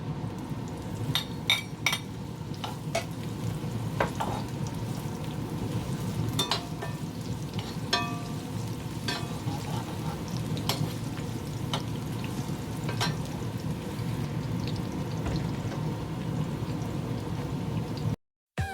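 Onions sizzling and frying in hot oil, a steady crackling hiss with occasional sharp pops and a few clinks of a utensil.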